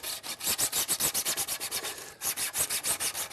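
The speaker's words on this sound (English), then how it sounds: "Once you've got most of the adhesive off, then I'll use sandpaper and I'll sand it as well." Sandpaper rubbed back and forth to remove leftover adhesive from a Concept2 oar blade, heard as steady, close, rhythmic scratchy strokes about five per second, with a brief pause partway through.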